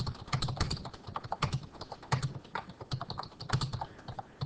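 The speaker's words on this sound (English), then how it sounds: "So I'm just gonna try, to demonstrate typing a sentence." Rapid typing on a computer keyboard, a steady run of close, crisp key clicks with uneven rhythm over about four seconds and no talking.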